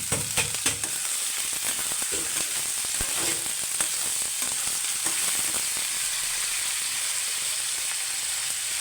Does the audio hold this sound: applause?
no